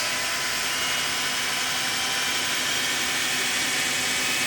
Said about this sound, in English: now all my new brushes are in the motor. I'm ready to try it out